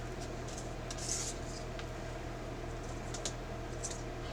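Affirmation cards are shuffled by hand, producing soft, quick papery riffles and flicks in short bursts over a low steady background hum.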